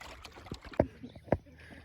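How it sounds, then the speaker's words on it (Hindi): Paddle strokes on water during a coracle boat ride on a river at Kabini, a few distinct splashes and drips about half a second apart, close and fairly quiet. "देखिए तेप्पा का राइड कर रहे हैं हम लोग।"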